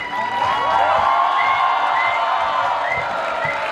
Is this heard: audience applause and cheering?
yes